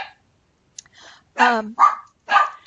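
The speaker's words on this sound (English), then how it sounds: "so the dogs are going to bark" Dogs bark at home as someone arrives, several sharp loud barks in quick bursts separated by brief pauses, close by.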